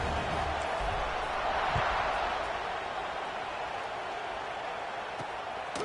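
A football stadium crowd roars steadily at kickoff in a broad, continuous wash of cheering that stays loud and dense for the whole stretch, with no single voice standing out.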